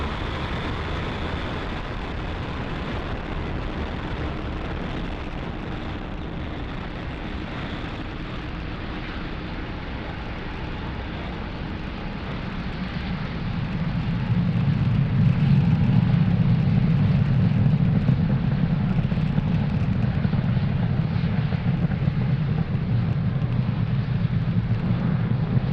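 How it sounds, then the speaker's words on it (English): A SpaceX Falcon 9 rocket lifts off carrying 54 Starlink satellites, producing a steady broad roar heard from a distance that swells to a deeper, louder rumble partway through and holds there. "Ignition and liftoff of Falcon 9"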